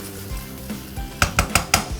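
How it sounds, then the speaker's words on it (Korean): Four sharp metallic scrapes ring out in quick succession near the end, a spatula against a pot as rice is stir-fried with shrimp, after a quieter stretch of low kitchen rumble. "쌀을 넣어주시고요. 쌀을 함께 살짝 볶아줄게요."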